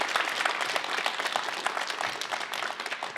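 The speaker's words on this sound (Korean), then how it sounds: "큰 박수 부탁드리겠습니다" Audience applause at a televised anniversary lecture event in Jeungpyeong, a dense, steady wash of many hands clapping throughout, fairly even in loudness with no speech over it.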